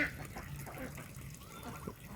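Geese on a duck and goose farm, with honks and watery splashing sounds scattered over a muddy, fairly quiet background, somewhat distant and irregular.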